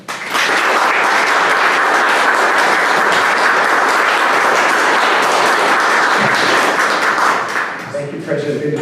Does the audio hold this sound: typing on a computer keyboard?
no